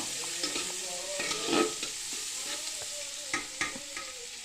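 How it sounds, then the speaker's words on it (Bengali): Chopped onions sizzle in hot oil in a home kitchen pan while a spoon stirs and scrapes them in a few distinct strokes, close and fairly quiet. "পেঁয়াজটা এবার খুব ভালো করে ভাজা করে নেব"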